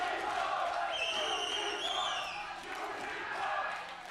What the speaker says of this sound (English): Crowd is getting rowdy. Good to hear the Splyce chants, though.